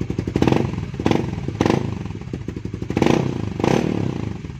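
A Raider 150 Fi motorcycle with a Vietnam-made copy Kalkal exhaust pipe idles with a steady chugging beat, then the throttle is blipped in several sharp revving bursts, loud and close.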